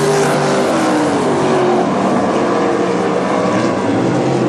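Sprint cars race around North Central Speedway during a UMSS sprint car event, a loud, sustained engine roar with rising and falling pitch as cars pass through the turns.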